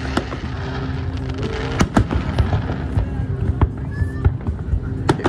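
A Fourth of July fireworks display over downtown San Diego in 2022 sends sharp cracks and thumping bursts at irregular intervals over a constant crowd rumble, while people talk nearby.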